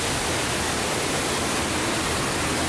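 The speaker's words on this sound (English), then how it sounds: "But it's the waterfall going from up there." A waterfall inside a mine gives off a loud, steady roar of rushing water that fills the space without a break.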